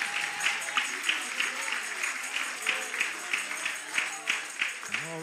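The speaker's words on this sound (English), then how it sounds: "Come on, give God another hand clap." A church congregation at a live Sunday service claps steadily in rhythm, a dense wash of hand claps with a regular beat beneath faint voices and an organ-like tone.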